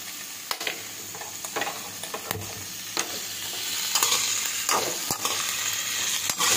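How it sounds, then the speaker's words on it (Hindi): Cauliflower, leaves included, and potato fry in a pan with a steady close sizzle, punctuated by repeated scraping stirs and clacks of the spatula against the pan. "भूनेंगे गोभी को, थोड़ा थोड़ा लाल करना है"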